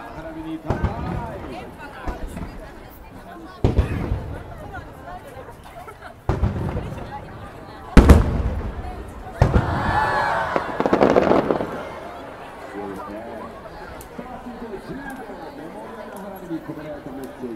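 Fireworks display at the Nagoya port festival, with repeated loud booming bursts at irregular intervals, some followed by crackling, over a steady murmur of crowd and announcer talk.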